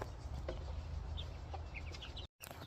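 Hens cluck softly in bursts over a steady low background hum, with a brief dropout near the end.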